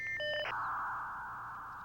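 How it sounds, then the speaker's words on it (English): A dial-up modem on a home computer connects over the phone line: brief dialing tones and beeps give way to a steady, loud rushing hiss of handshake noise that holds to the end. "I'll hear the phone's dial tone, then the sound of the two computers connecting."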